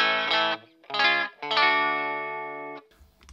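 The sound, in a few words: electric guitar through distortion pedal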